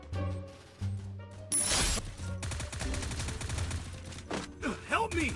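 Sniper rifle shots and gunfire bursts in a shooter video game, loud and rapid with mechanical clicks between them, with game effects and a voice talking over the action.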